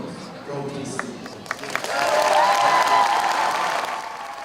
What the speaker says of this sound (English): Let's be loud and proud as we cheer on our basketball team tonight.